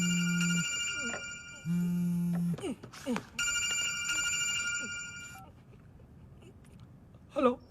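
A telephone in a dubbed film rings in two long electronic bursts separated by a gap, followed by clattering movement and a brief sharp sound at the end.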